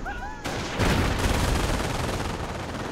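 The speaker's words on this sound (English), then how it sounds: "that's enemy mortars coming in" Enemy mortar rounds landing in a Company of Heroes battle: a sudden loud blast followed by sustained rumbling explosions and crackling debris, heavy and close.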